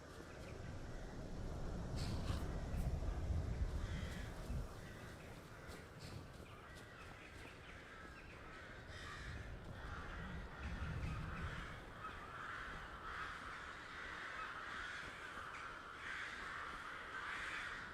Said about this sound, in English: It's a lot of crows.